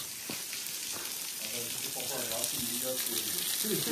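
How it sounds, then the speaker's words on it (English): A small waterfall on a rocky hillside path makes a steady, close rushing hiss of falling water, with voices talking over it. "lovely little waterfall"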